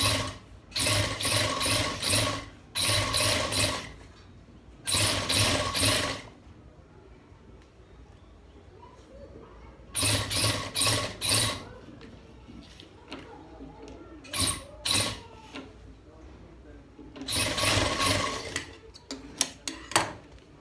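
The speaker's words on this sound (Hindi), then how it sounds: "ब्लैक जो धागा है किसी का, वहीं से सिलाई इसी से कर रहे हैं।" A tailor's sewing machine stitching with black thread runs in short, loud bursts of fast, rhythmic clatter, separated by quieter pauses with handling noise and a little faint talk.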